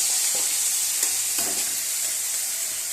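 Rice with three bay leaves and whole garam masala is stirred and fried in oil for egg pulao, giving a loud, steady sizzle with a few spoon scrapes and knocks near the start.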